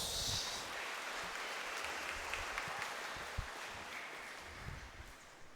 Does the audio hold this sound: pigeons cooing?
no